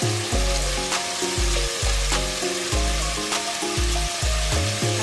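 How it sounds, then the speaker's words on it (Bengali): Cumin, chili and turmeric powder sizzling in hot oil in a frying pan: a loud, dense, continuous crackle and hiss, steady and close throughout, with no voices. "এবার এর মধ্যে আমি 1 চামচ জিরে গুঁড়ো, 1 চামচ লঙ্কা গুঁড়ো, 1 চামচ হলুদ গুঁড়ো দিলাম"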